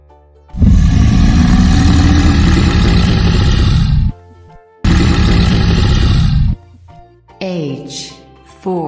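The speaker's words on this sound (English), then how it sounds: "T for tiger." Tiger roar in a children's alphabet nursery rhyme, a loud, rough, sustained roar in two long bursts separated by a brief gap, then quieter tonal sounds at the end.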